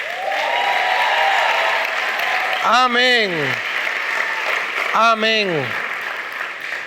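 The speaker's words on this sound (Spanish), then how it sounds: "Si le das un aplauso al Señor, dáselo fuerte." Church congregation applauding for the Lord, a broad steady wash of clapping throughout, with a voice speaking over it twice.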